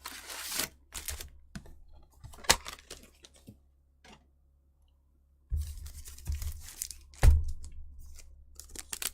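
Magic the Gathering card packs being torn open by hand, with crinkly tearing and crackling foil bursts in short clusters separated by a quiet pause.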